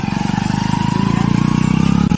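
A motorbike hauling loads of bundles along a rainy Konkan village track putters steadily and close for about two seconds, its pulsing exhaust even and loud before cutting off abruptly.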